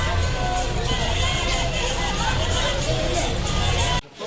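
An outdoor crowd at a festive village celebration, with children among them, makes a continuous loud babble of voices, shouts and cheers close by, cut off briefly at the end.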